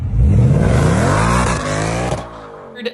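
A Ford Mustang RTR Spec 5 engine roars up through a sharp rev, pitch rising loudly and close, then drops off and fades.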